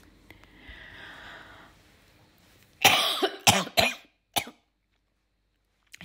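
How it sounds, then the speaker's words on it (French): Person coughing after deep breathing: a soft breath first, then a cluster of three or four harsh close coughs and a final short one, with silence between. "le fait de respirer en profondeur, je tousse beaucoup"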